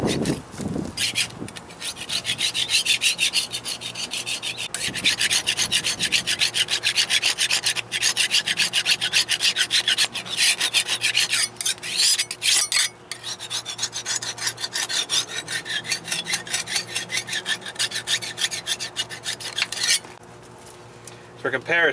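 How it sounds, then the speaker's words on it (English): Steady, loud scraping and rasping of grease and loose flaky paint from steel steam locomotive parts, continuous strokes running for about twenty seconds with brief pauses. "we have to get the grease and the loose flaky paint off"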